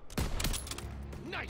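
Gunfire in the Call of Duty: WWII video game, a couple of sharp nearby shots in quick succession followed by a ringing tail, with a brief voice near the end.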